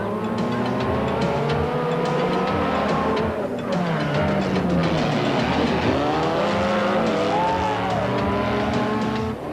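Motorcycles launch together at the start of a round-the-houses race during the 1990 Roof of Africa event, a dense, loud roar of many engines revving and rising in pitch as the pack surges off, continuous throughout.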